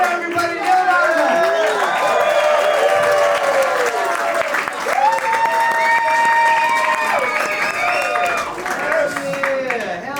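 Stand-up comedy audience applauding loudly and steadily for about ten seconds, a dense wash of clapping with scattered cheers and voices rising over it throughout.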